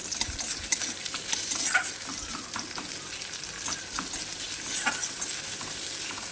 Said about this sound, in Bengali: পেঁয়াজটা দিয়ে একটু ভেজে নেব